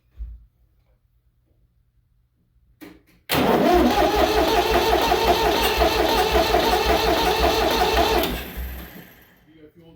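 A David Brown 780 tractor engine, freshly rebuilt, cranks over loudly for about five seconds with a rapid rhythmic churn after a moment of quiet, then winds down without firing.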